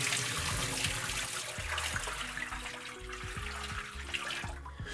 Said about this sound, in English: Pouring in the water.